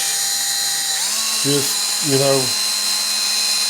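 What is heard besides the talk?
drill with wire brush cleaning rust off guitar screws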